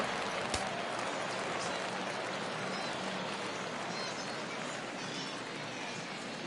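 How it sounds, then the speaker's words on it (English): Baseball stadium crowd rising on a full count late in a close game, a steady broad roar of cheering and applause from thousands of distant fans, sustained without pause across the stands. "Crowd gets up for the 3-2"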